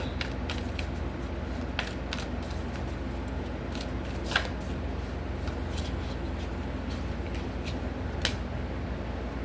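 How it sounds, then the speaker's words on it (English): Cards are shuffled repeatedly, with soft riffling and sharp snapping bursts at irregular intervals over a steady low background hum. "shuffle for Virgo."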